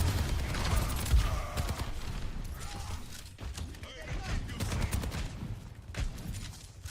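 Gunfire from the Soldier hero in Overwatch 2 rattles in repeated bursts amid busy game effects, with a voice talking underneath.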